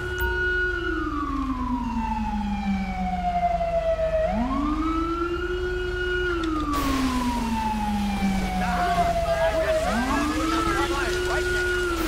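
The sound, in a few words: fire engine siren in video game GTA 5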